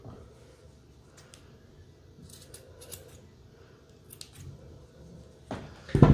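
Scissors trimming the loose ends of a handmade planner tassel, a few soft snips spread over quiet room tone, ending in a louder close rustle and cut.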